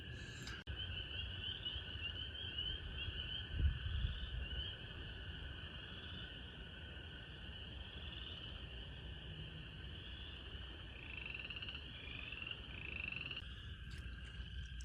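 Frogs calling at night in early spring, a steady high-pitched chorus of trilling calls running the whole time with a low rumble of ambient noise beneath, moderately distant and continuous.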